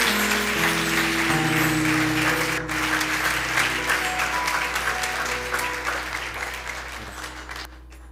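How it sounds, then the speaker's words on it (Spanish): A church audience gives a sustained round of applause for a guest apostle from Puerto Rico, dense and steady clapping over a low hum that gradually fades toward the end. "desde Puerto Rico recibamos con un aplauso, con mucho amor y cariño, al apóstol Rubén Hernández"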